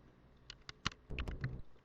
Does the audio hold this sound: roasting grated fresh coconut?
no